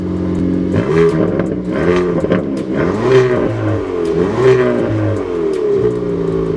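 A written-off Hyundai i30N performance hatchback revs repeatedly in race mode, its engine rising and falling through several loud, close blips with a raspy, healthy note and no speech.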